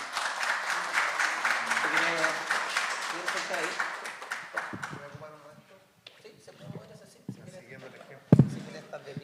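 An audience at an inaugural lecture applauds a speaker being introduced, dense clapping for about four seconds that thins out into scattered claps and murmuring voices.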